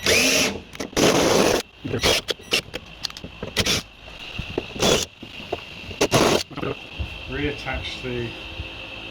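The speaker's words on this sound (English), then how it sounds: "mark or drill the holes with self-tappers" Short bursts of a power drill whirring and biting into metal, driving self-tapping screws into a Ford Escort boot lid spoiler, several runs separated by pauses, with someone talking intermittently between them.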